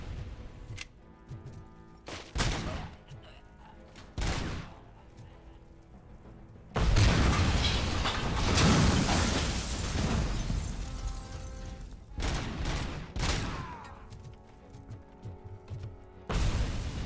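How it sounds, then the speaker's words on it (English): Gunfire and grenade blasts in the RoboCop: Rogue City video game, sharp broadband bursts at intervals with a long roaring explosion in the middle, loud and close. "I wonder if you can shoot the grenades in midair."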